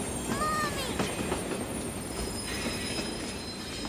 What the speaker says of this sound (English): as he watched the train getting closer, he began to feel a little scared